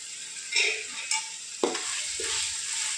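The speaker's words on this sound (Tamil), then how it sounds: "வெங்காயம் தக்காளி நல்லா வதங்குறதுக்கு உப்பு சேர்த்துக்கோங்க" Onions and tomatoes sauté in a pan for prawn dum biryani, with a steady broadband sizzle and a few brief stirring scrapes of the spoon through the mix. The sound is close and continuous, and no one speaks.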